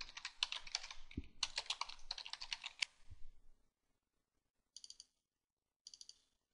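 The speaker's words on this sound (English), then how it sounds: "And hopefully I can type this time." Rapid keystrokes on a computer keyboard in two dense bursts of clicking, followed after a pause by two short, quieter flurries of taps, with no voices.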